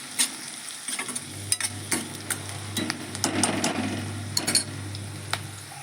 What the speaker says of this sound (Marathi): कांदो पण आपण भाजून घ्यायचो लाल होईपर्यंत. त्याच्यानंतर आपण त्याच्यात मसाले घालून घ्यायचं